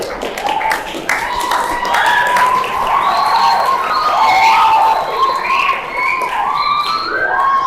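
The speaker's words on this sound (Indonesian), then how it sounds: "Tepuk tangan." At a school orientation session for the new academic year, an audience of students claps and cheers after a speaker, with scattered voices and shouts running over the steady applause throughout.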